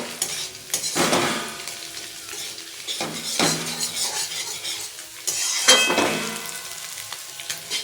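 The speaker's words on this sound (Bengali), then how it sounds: "ডিমটাও সঙ্গে সঙ্গে ভাজা হয়ে যায়" Egg frying in a pan with potato as chow mein is cooked, a steady sizzle broken by repeated scraping stirs and metal utensil clinks against the pan, close and fairly loud with no talking.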